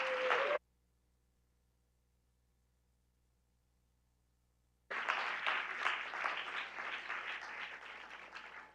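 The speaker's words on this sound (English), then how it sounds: "So I want to give those young people another round of applause this evening." An audience at an evening school board meeting in an elementary school claps for young speakers, a brief opening burst, a few seconds of silence, then a sustained round of applause that gradually tapers.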